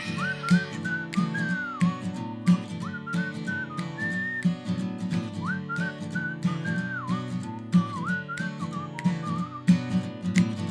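A bright, melodic whistle carries a tune over a rhythmic musical backing, phrases rising and falling throughout.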